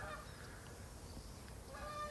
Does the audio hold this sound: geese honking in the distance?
yes